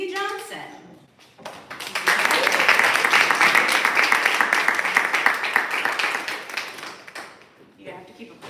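An audience at a poetry reading claps steadily for several seconds and then fades out, with a voice speaking briefly before and after the clapping.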